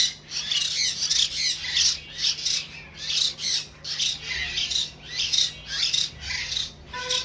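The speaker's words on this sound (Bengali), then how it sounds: "এখানে দেখতেছেন ময়না পাখির বাচ্চাগুলো খুবই সুন্দর" Hill myna chicks giving a rapid series of loud, harsh, rasping squawks, close up and repeated about twice a second, with a low steady hum underneath and no talking.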